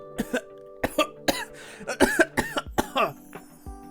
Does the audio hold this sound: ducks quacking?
no